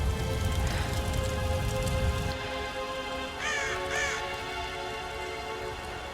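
Steady rain pours loudly for a couple of seconds in the Tomb Raider video game, then thins to a softer patter while a crow caws twice in the middle distance.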